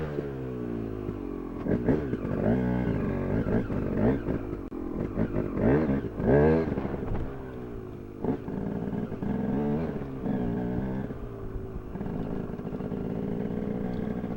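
Racing motorcycles at a mass start of around a hundred bikes for a two-hour race, a dense overlapping roar of engines revving and climbing in pitch, loud and sustained throughout.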